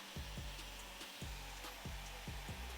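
A blow dryer works over hair held on a round brush during a mid-fade barber haircut, its steady airy whir broken by regular rhythmic pulses, fairly quiet and without talk.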